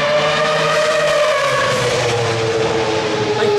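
A Formula 1 car brakes and downshifts on track, a loud, continuous high-pitched engine scream that slides steadily downward in pitch, heard up close without any talking.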